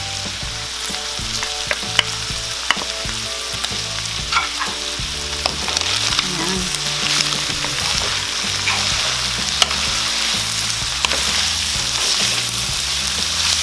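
Beef liver and beef tripe sizzle steadily in a pan, a loud continuous fry with scattered clicks and scrapes from stirring, no voices.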